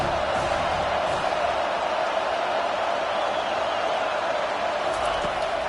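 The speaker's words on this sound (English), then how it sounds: "Decibels rising as the crowd gets behind this defense on 3rd down." Football stadium crowd roaring on a third-down defensive play, a dense, steady wall of cheering and noise that stays loud and unbroken throughout.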